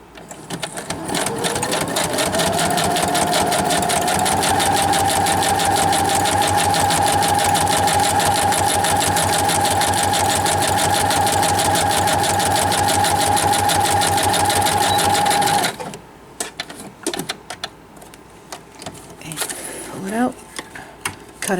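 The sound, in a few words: sewing machine stitching all the way around fabric edge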